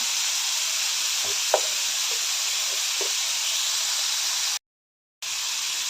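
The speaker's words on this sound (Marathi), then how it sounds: "टोमॅटो सर्व परतून घेऊया लालसर होईपर्यंत परतून घेऊया" Onion and tomato sauté in a pan with a constant, close hiss and sizzle, joined by a few soft stirring knocks, broken by a brief silent gap near the end.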